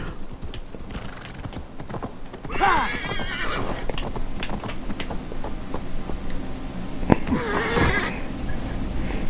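A horse in the game Assassin's Creed Valhalla whinnies loudly twice, once early and again near the end, over a steady clip-clop of hooves and a constant game background.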